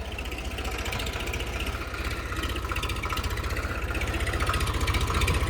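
A farm tractor engine runs with a rhythmic, throbbing chug that grows slightly louder and closer over the stretch, with no talk.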